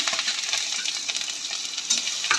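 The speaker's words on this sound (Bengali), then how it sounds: "সেই রসুন কুচিটা দিয়ে দিলাম" Chopped garlic sizzles in hot oil in a wok, a close continuous crackling hiss with light ticks and spatula clicks, no voices.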